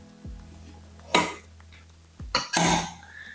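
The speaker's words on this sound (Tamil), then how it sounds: "பாருங்க, இப்போ குக்கர் மூடி வச்சிடலாம்." A pressure cooker lid is fitted and closed over no-oil chicken biryani, making a few loud, close metallic clatters and scrapes separated by short pauses.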